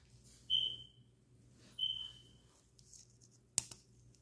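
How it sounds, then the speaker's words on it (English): A smoke alarm gives two short, high, piercing low-battery chirps about a second apart, followed by a sharp click, in a quiet indoor room with a low steady hum. "please don't be commenting about the fire alarm. I know I need to change the battery."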